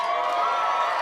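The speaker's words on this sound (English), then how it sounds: "Some people wooing, some people clapping." Comedy club audience at a mall show on a Wednesday night, a steady wash of crowd noise with whoops and cheering, brief and fairly loud, with no distinct talking over it.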